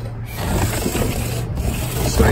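A hand tool is drawn back and forth along leveling rails to flatten an oak slab, giving a steady, close scraping rub with no talk.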